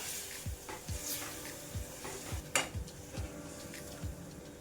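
Water is added to a hot pan of brinjal curry on full flame, giving a quiet sizzle broken by a string of sharp metal utensil clinks against the pan, with no voices.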